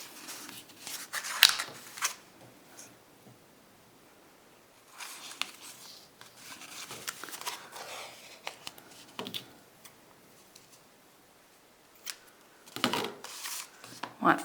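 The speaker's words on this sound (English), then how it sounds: "I'm going to cut 3 probably 8-inch pieces" Scissors snip through lengths of yarn in several short bursts of crisp cutting, separated by quiet gaps, close by and moderately loud, with soft handling rustles between cuts.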